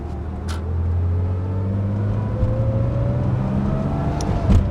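A 1985 Porsche 930 Turbo, an Australian-delivered car, cruises steadily around a suburban block, its engine a continuous low drone with gentle rises in pitch as it pulls through gears.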